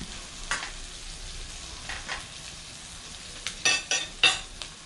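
Salmon with bell pepper cooking in a pan, a soft steady sizzle underneath with scattered spatula scrapes and clicks, several sharper stirring strokes clustered toward the end, close and moderately quiet.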